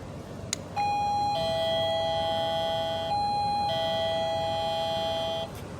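An electronic doorbell fitted on a bus rings a steady two-tone chime that holds for about five seconds, loud and alone with no talking.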